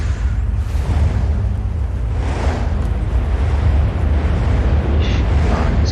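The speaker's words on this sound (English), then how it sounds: "probably an explosion happening somewhere around the world" A distant explosion rumbles in the Jade Empire video game, a broad low roar that swells and fades over several seconds amid steady background noise, with no talk.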